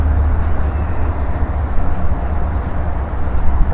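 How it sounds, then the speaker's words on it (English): A CP Rail freight train rolls past on a rainy day in Toronto, a continuous low rumble and rattle heard steadily throughout with no talk. "there goes a CP rail train"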